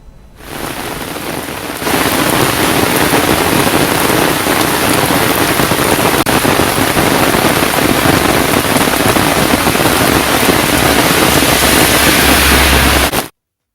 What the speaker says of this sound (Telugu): ఉరుములు, మెరుపులతో కూడిన కుండపోత వర్షం కురిసింది